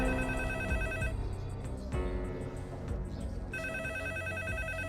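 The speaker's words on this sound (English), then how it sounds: "the phone rang" A telephone rings with repeating electronic tone bursts, loud and close, sustained across the whole stretch with a brief pause midway and a low musical bed underneath.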